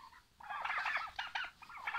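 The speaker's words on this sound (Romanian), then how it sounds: "Aici acest cocoș foarte frumos, este un fel de metis, o să-l prind." Poultry in a warm coop with a crossbred rooster and turkeys: close, moderately loud clucking and squawking calls in quick bursts, heard without talk.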